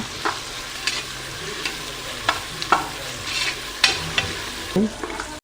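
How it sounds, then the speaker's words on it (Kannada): Ingredients for vegetable pulao, including a freshly added paste, stir-fried in a pan, with a steady close sizzle broken by repeated scraping strokes of a spatula against the pan. "ಚೆನ್ನಾಗಿ ಹಸಿ ವಾಸನೆ ಹೋಗೋಷ್ಟು ಫ್ರೈ ಮಾಡ್ಕೊಳ್ಳೋಣ"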